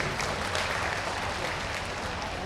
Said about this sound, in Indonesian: tepuk tangan untuk beliau-beliau.